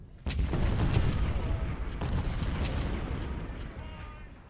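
Artillery guns in an Ultimate General Civil War battle at the Nansemond River fire on infantry, a sharp boom followed by a heavy rolling rumble, with a second report about two seconds later, fading out.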